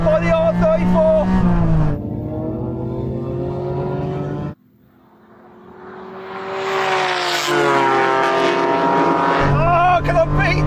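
Japanese sports cars racing, a Honda NSX and a Nissan R34 GT-R, engines roaring loud and close with rising and falling revs, one sharp lift-off drop before the engine climbs again through the gears.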